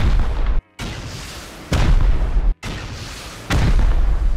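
Rocket launcher blasts in the video game Rust, four loud booming explosions in succession, each followed by a long rumbling decay, separated by brief cut-off silences.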